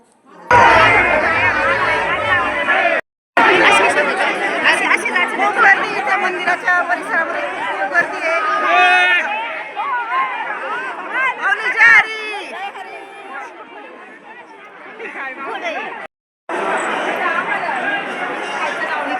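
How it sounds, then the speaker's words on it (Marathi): A large crowd fills a stone Khandoba temple with dense, continuous chatter, overlapping voices close and loud throughout, with two brief dropouts. "आणि खूप खूप गर्दी इथं मंदिरामध्ये"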